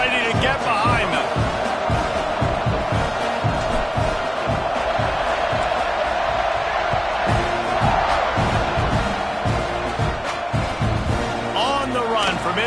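A big football stadium crowd roars and cheers steadily before the kickoff, a loud, continuous wall of noise with an announcer talking over it.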